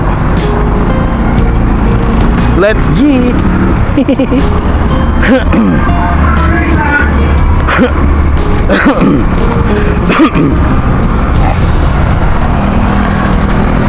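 Steady loud road noise from inside a car on a road trip in traffic, a constant engine and tyre rumble with passing vehicles and occasional thumps, while people talk over it.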